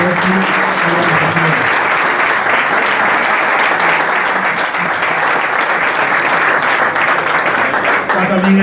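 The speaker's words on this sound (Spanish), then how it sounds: "demos un aplauso al Consejo Nacional de Turismo" An audience at a golf tournament gathering in a Tangier hotel claps steadily and loudly for several seconds, a dense, sustained round of applause with a voice briefly audible beneath it.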